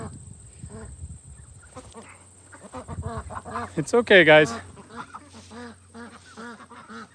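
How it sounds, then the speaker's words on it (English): Ducks in a farmyard, among them Appleyard ducks, quack in a short, loud burst close by, while a person talks calmly before and after. "Let's see where, oh, here are the ducks."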